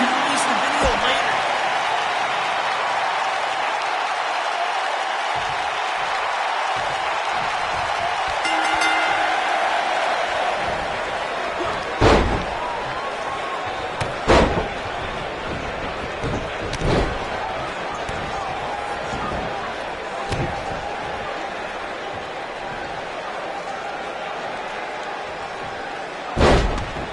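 A large arena crowd in the WWE 2K19 wrestling video game roars steadily throughout, with occasional loud slams and thuds cutting through the constant din.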